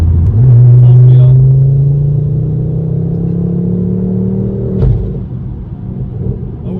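Revo Stage 4 tuned 400bhp Ford Focus ST mk2 in fourth gear, its engine loud and close as it pulls up the rev range with a rising drone through the exhaust, then a sharp gearshift and a steadier hum.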